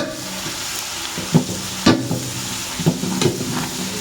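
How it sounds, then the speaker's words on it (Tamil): Onions sautéing in a pan with a pinch of turmeric for sambar give a steady low sizzle, broken by a few sharp scraping stir strokes of a spoon against the pan, close by and without talk. "நல்லா வதவும் வெங்காயம் சும்மா கால் வேக்காடு வெந்தால் போதும்"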